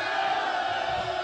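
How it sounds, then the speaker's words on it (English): A crowd cheers and whoops at a press conference in New York, a steady dense roar of many voices that fills the room without a break. "Who is still cheering?"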